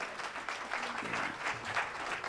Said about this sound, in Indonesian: Beri tepuk tangan yang paling meriah bagi Allah yang luar biasa